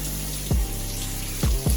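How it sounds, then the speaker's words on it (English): Water runs steadily from a tap while something is rinsed under it, with a continuous close splashing hiss and a few brief gurgling shifts in the flow. "So I need to rinse this off."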